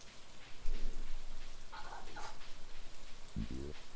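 Steady rain falls in the Stardew Valley video game, a soft continuous hiss with faint scattered tonal calls and a brief louder chirping burst near the end.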